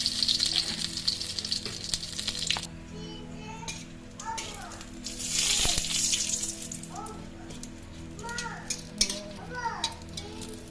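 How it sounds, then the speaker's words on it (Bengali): Bay leaves and dried red chillies sizzle loudly in hot oil, with the crackle easing to a softer fry. Children's voices chatter in the background. "দিয়ে দিচ্ছি দুটো তেজপাতা, দুটো শুকনো লঙ্কা,"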